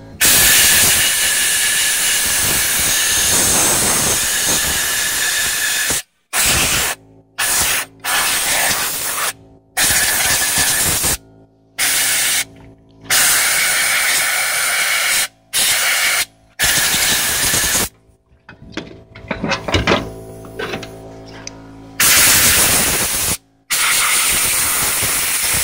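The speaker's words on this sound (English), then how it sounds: "There's really no other comparison to clean these things off except with an air hose." An air hose blows dust off scrap-yard items in loud, sustained hissing bursts, each cut off by brief pauses before the next long blast, close and harsh.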